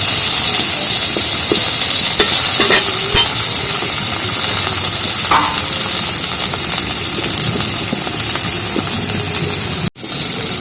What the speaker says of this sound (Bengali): নুন হলুদ দিয়ে পুরোটা ভেজে নেবো ভালো করে